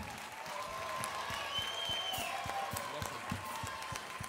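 A concert crowd at a rock show applauds faintly and at a distance, with sparse, spaced claps and a low murmur of voices, quiet overall.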